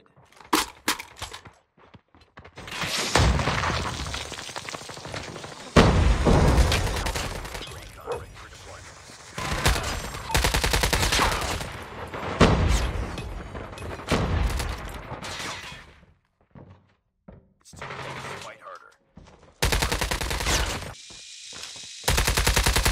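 Video game shooter gunfire crackles in loud, intermittent bursts and rapid automatic volleys, separated by short pauses and quieter gaps, across the whole stretch.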